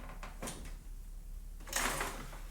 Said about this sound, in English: You're gonna put your fingers in this gap and pull the drawer.